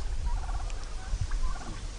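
Turkeys on a turkey farm gobble in two quick bursts, faint and slightly distant over a low background rumble, with no talking.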